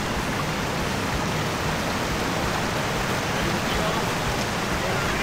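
Waterfall and river at Batu Hampak on Gunung Jerai, a steady, loud broadband rush of falling and flowing water, continuous and close, with no clear voices over it.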